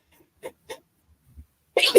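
A couple of short breathy intakes lead to one loud, explosive sneeze at the end, close up.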